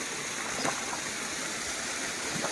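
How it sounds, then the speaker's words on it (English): A mountain waterfall on the Central Coast makes a steady, broad rushing roar of falling water with no talk. "It's a waterfall."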